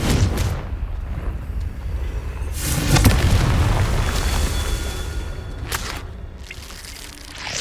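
Fiery Confringo spell blasts in Hogwarts Legacy, a booming burst rising around the middle with crackling and rumbling debris, loud and close, with a couple of sharper hits later on.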